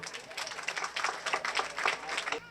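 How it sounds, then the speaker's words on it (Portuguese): Brief burst of audience applause at a holistic centre gathering in Curaçao, a dense patter of clapping hands with some crowd noise, rising and falling over a couple of seconds. "Fuerte aplauso para meu irmão de coração, Mirta Litzentje"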